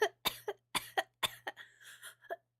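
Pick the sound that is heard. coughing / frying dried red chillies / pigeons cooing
coughing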